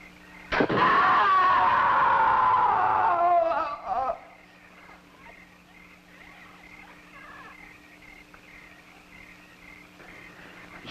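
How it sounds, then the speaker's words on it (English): A loud, high wavering scream rings out in a jungle on a hidden island, lasting about three seconds and ending with a brief second cry, then fading into quiet background noise. "Sure I heard a scream."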